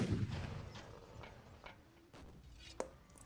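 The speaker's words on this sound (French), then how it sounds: "il y a l'artillerie, elle a tiré" Artillery fires in a video game: a few muffled, distant booms roll by quietly, then a sharper crack lands near the end, with no talk.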